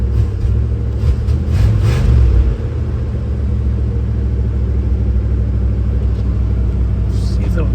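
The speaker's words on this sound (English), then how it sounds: "when I'm matting the throttle, it wants to backfire" A 1988 Grand Wagoneer engine is blipped with the throttle, giving a short deep rev and rumble before settling into a steady low idle. Someone talks over it, and no distinct backfire pops stand out.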